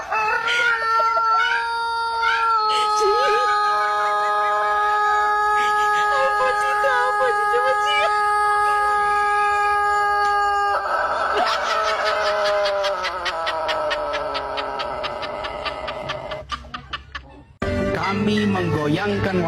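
A rooster crows in several long, loud, clear calls, the harmonic notes holding steady before breaking off, with further crowing and clucking layered later and a brief cut near the end.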